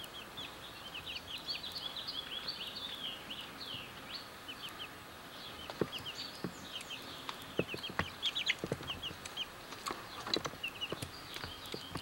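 Soft, high cheeping and clucking from two-week-old chickens goes on steadily, with occasional sharp knocks and taps nearby.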